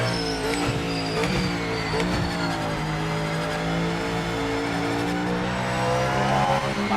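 A Mustang race car engine in a sim racing game drones steadily and loudly throughout, with rising and falling revs, gear changes and a hint of tire squeal, no voices over it.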